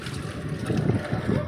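Strong wind with rain gusting during typhoon flooding, a steady broadband roar rising and falling over low rumbling buffets close to the microphone.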